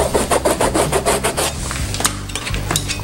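A metal spatula scrapes paint across a canvas in a rhythmic series of rough back-and-forth strokes, close and fairly loud, with no voices.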